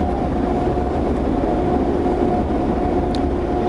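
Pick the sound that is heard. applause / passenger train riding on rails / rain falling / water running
passenger train riding on rails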